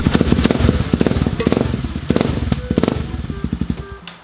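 A Honda 250L motorcycle engine putters and pops close by, with loud, choppy pulses whose rhythm rises and falls as the throttle varies, ending in quieter idling bursts.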